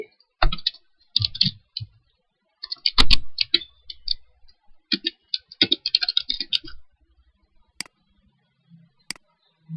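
Keys clatter on a computer keyboard in short irregular bursts of clicks, close and fairly crisp, with pauses between groups of strokes and a few isolated taps near the end.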